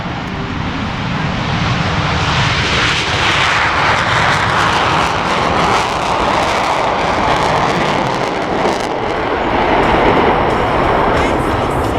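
Blue Angels Diamond jets passing low overhead at an airshow with engines in afterburner, a loud continuous roaring rush that builds and holds throughout.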